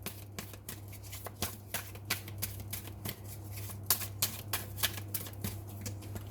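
A deck of tarot cards is shuffled close by, giving a quick series of crisp riffling flicks and taps in an uneven rhythm over a low steady background hum.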